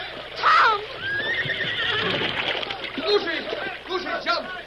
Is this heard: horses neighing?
yes